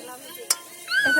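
Food frying in a pan at an outdoor picnic, a quiet sizzle with a single sharp utensil clink midway, then a brief higher tone over the sizzle at the end.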